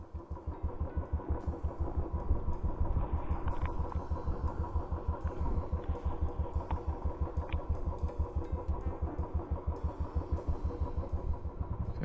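A 2020 Royal Enfield Classic 350 (BS3) motorcycle engine runs steadily nearby, a loud, even, low thumping beat that holds without pause throughout.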